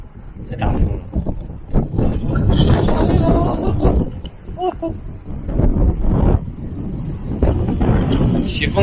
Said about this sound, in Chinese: 这大风！